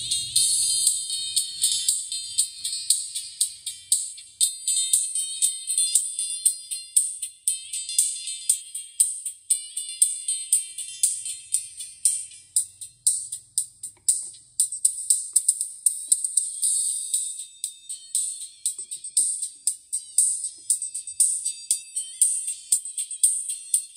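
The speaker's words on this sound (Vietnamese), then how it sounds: "Anh em giờ tôi sẽ test cho anh em nghe thử nhé" Pioneer P103S super tweeter for a vintage sound system playing a bright, piercing, high-pitched test signal in rapid repeating pulses, loud and continuous with no talk.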